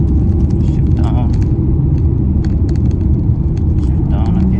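A new car's engine drones steadily and loudly while being driven slowly on a road with cows nearby, shifting down through the gears. The low, continuous rumble holds throughout with faint background clatter.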